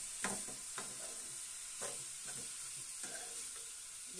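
Vegetables frying in a little oil in a pan, a soft steady sizzle broken by several scraping stirs at a regular pace, fairly quiet and close with no talk.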